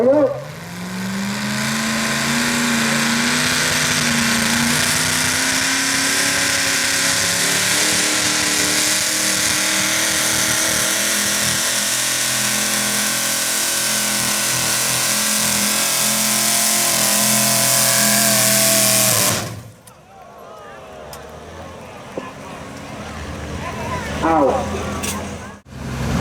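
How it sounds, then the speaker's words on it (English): Modified small block four-wheel-drive trucks roar at full throttle during a truck pull, a loud sustained engine drone for most of the span before cutting off, leaving quieter crowd and ambient noise with a voice talking. "Putting the stress on these drive lines in these four-wheel drive trucks."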